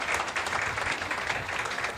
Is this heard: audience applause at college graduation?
yes